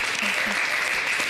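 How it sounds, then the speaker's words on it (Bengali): Applause breaks out for a neighbourhood daughters-in-law competition, a steady wash of clapping with some low voice fragments mixed in across the short stretch. "হাততালি।"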